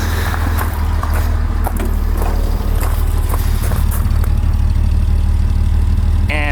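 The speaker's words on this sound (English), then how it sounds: "Let's have a listen at the exhaust." A classic daily-driver car's exhaust idles steadily and smoothly, a close, continuous low rumble with no revving, heard alone.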